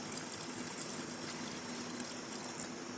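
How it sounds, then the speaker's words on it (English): Liquid is poured into a container during a chemistry preparation of beryllium metavanadate, a soft, continuous trickling wash that stays faint and even throughout, with no talking. "we'll just go ahead and pour some in here."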